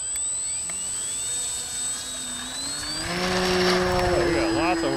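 Electric motor and propeller of an FMS FairRC Blue Jay beginner RC airplane on its maiden flight, a steady high whine that rises in pitch and loudness as the throttle is pushed up.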